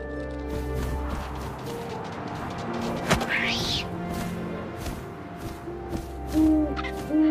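A low owl hoot from the game What Remains of Edith Finch sounds against a busy game-like backdrop of thumps, a swooshing sweep and short electronic tones.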